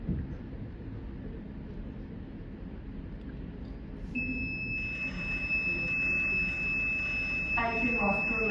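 An alarm clock's buzzer sounds as a sustained high electronic tone over a steady running motor hum, both entering partway through after a quieter stretch.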